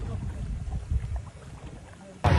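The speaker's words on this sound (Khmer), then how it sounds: "ខ្ញុំជិះទូកមើលសោតនៅអន្លង់សោតនៃខេត្តក្រចេះ" Low rumble of a small boat on the Mekong at the dolphin pool in Kratie, steady engine and water wash throughout, ending with a sudden loud burst of wind or spray.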